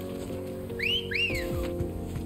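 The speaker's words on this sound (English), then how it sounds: "That was definitely worth a whistle." A person whistles two quick rising-and-falling notes over a steady background of game music and sound effects.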